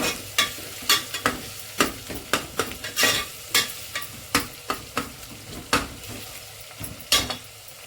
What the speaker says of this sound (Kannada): ಚೆನ್ನಾಗಿ ಗೋಲ್ಡನ್ ಬ್ರೌನ್ ಬರಬೇಕು, ಅಲ್ಲಿವರೆಗೂ ಸ್ವಲ್ಪ ಫ್ರೈ ಮಾಡ್ಕೊಳ್ಳಿ